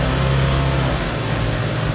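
An engine on an electronic ignition training panel runs with a steady, loud mid-pitched hum and buzzing harmonics as its idle control is turned, the speed shifting slightly over two seconds.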